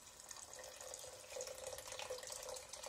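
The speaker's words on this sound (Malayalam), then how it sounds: "ഇതിലേക്ക് നമുക്ക് വെള്ളം ആഡ് ചെയ്ത് കൊടുക്കാം." Water poured into a pan of potato cauliflower curry, a faint steady trickle and splash heard alone at low volume.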